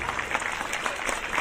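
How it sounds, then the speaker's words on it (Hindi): Brisk audience applause at a judo demonstration at Puri Zila School, an even patter of many hands clapping heard alone for a brief moment. "उठे ताली दि जोरदार"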